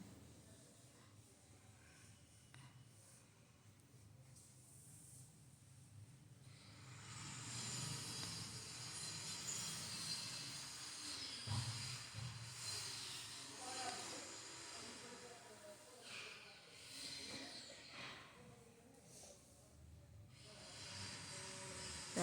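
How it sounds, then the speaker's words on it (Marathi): Curry leaves drop into hot oil and burst into a loud hissing, spattering sizzle that swells after a quiet start and carries on steadily, with a voice talking briefly over the frying. "तर आता कढीपत्ता तळून घेऊया"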